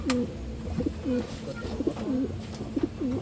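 Pigeons, including an old checkered bird, coo softly and repeatedly at close range, the rolling calls returning every half second or so over a low background murmur.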